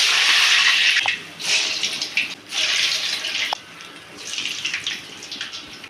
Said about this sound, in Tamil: இப்போ நம்ம வடையை தட்டி போட்டுக்கலாம்.